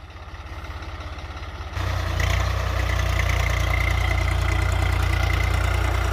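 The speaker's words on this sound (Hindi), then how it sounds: "और ट्रैक्टर बहुत बढ़िया काम कर रहा है।" A Swaraj 744 FE 50 HP tractor ploughing a wet, foggy field: a loud, steady diesel engine drone with a low throbbing pulse, rising in load partway through and holding strong to the end.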